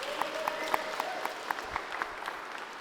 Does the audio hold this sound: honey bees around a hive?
no